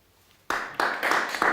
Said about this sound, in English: Methought I did hear the groundlings applaud.